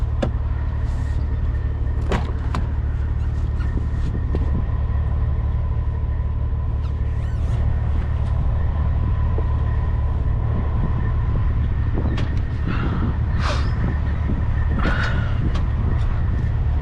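A car hauler truck's engine cranks over in a long, steady, loud low rumble with a few sharp clanks and knocks on top, and no voices.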